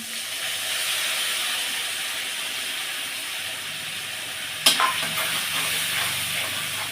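Fried spice mix goes into a sizzling pan while cooking tilapia curry with giant taro, a steady loud hiss and sizzle with a brief sharp clatter midway, no voices.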